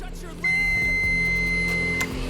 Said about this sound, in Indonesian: Kayaknya multinya bunyi dan di situ juga terlihat 0, berarti tidak ada tahanan.